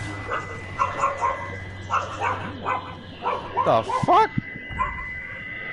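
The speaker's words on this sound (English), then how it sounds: "My dogs got set off." Dogs at home barking and yipping in short, excited bursts, some close and loud, with a whine mixed in, while a person speaks over a gaming stream.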